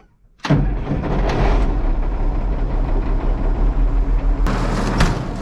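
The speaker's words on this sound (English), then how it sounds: "But first I'm gonna start this tractor up, the old 5088." An old John Deere 5088 farm tractor's diesel engine cranks and fires up abruptly, then settles into a steady, loud, close rumbling idle with a brief bump in revs near the end.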